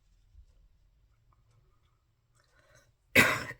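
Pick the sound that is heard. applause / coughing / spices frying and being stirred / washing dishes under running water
coughing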